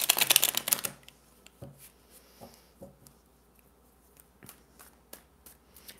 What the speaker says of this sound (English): Just want to give a quick shuffle.